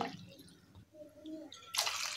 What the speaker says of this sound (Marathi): आता याच्यामध्ये मी दुसरं स्वच्छ पाणी ओतत आहे.